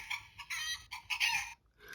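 Battery-powered toy chicken train car plays a recorded rooster crow, a thin electronic cock-a-doodle-doo in short choppy bursts, close and clear with a brief gap before it resumes.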